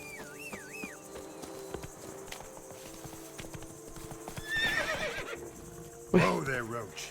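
Geralt's horse Roach in The Witcher 3: Blood and Wine trots with steady hoof clip-clops, then lets out a loud, shrill whinny near the end, while someone talks at intervals over the game sounds.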